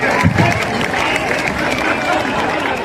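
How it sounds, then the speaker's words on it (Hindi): Crowd applause and cheering at an outdoor Dussehra festival Ram–Ravan battle play, a dense, steady clapping and crowd noise running loud and continuous throughout the short stretch. "जोरदार तालियां।"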